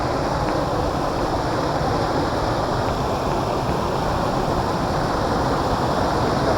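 A waterfall rushes in a constant, loud roar, a dense unbroken wash of noise that never lets up.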